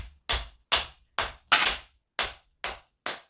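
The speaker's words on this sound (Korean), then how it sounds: "이 딱딱한 곳에 놓고 망치로 조금 쳐주셔도 됩니다" A hammer taps an earthing stick wire against a hard surface in seven sharp, evenly spaced strikes, each loud and close with a quick ringing decay.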